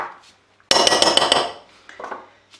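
A spoon drops chopped cornichons into a bowl for sauce ravigote, giving a sudden loud burst of clinking and clattering against the bowl that rings briefly, then fades into quiet.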